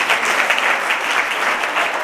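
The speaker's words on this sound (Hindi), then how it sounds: "एक बार जोरदार तालियां फिर दो" Schoolchildren at Vasantrao Naik School in Shahada break into loud, dense applause, a steady wash of many hands clapping together throughout with no pause.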